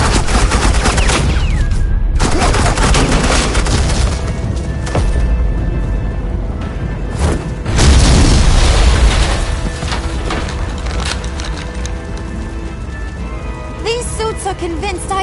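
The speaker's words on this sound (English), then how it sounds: "suppressing fire." Suppressing gunfire from Agent Quinn in a Batman video game, rapid continuous bursts of automatic fire with loud cracks and booms, a brief pause near the start, then sustained firing that rises in intensity toward the middle.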